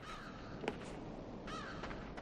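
A raven caws twice in the Limbo video game, a faint, distant call standing out briefly over a steady hiss of ambient background noise with no voices.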